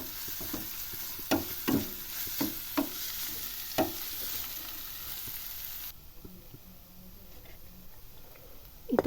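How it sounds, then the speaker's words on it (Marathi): Chopped onion sautéing in oil in a home kitchen pan while mashed potato and pea curry is being made, a steady moderate sizzle broken by several sharp stirring clacks and scrapes, then a quieter simmering hiss. "तो सुद्धा चांगला व्यवस्थित तेलामध्ये परतून घ्यायचा"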